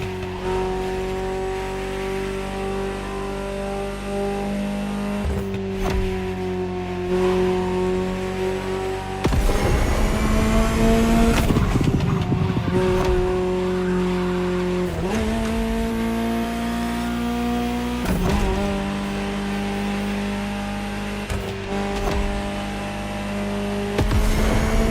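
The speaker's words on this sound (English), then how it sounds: "Just listen to the car you're driving." Ferrari supercar in The Crew Motorfest racing game, its engine revving loud and close through rising and falling gear changes, with bursts of harsher noise that may be tire squeal, continuous throughout with no talking.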